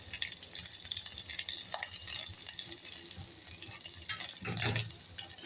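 Grated fresh coconut stirred into a hot tempering of asafoetida and turmeric for a tangy-sweet tamarind-jaggery amti, a steady close sizzle with light scraping and a brief louder splutter near the end, no talk.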